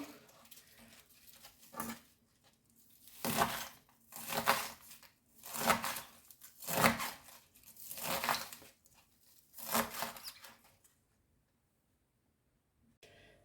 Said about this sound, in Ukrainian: Зараз ще поріжу зелену цибульку.